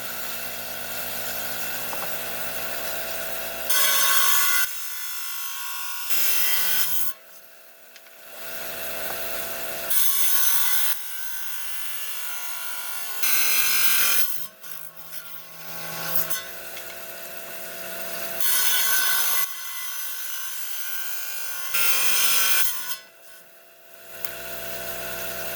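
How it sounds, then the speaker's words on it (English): A rock saw cuts a slab of prairie agate in long grinding, whining passes that start and stop repeatedly, dropping to the quieter hum of the spinning blade between cuts; close and loud throughout. "Got the saw turning, and we're ready to cut this,"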